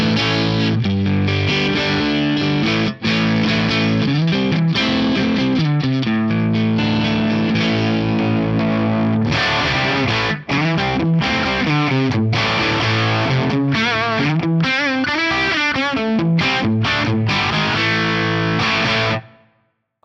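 An electric guitar played on its bridge humbucker through a Class A 30-watt Brilliant amp model rings out with dense, driven chords and riffs for about twenty seconds, loud and continuous with brief gaps before a sudden stop.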